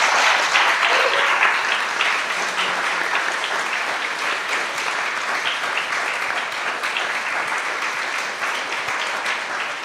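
Sustained audience applause fills the room at an artist talk and music performance, a dense, steady wash of many hands clapping that holds at roughly even loudness for the full stretch, with no voices standing out.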